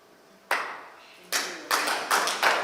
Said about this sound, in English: The clap song. The clap song.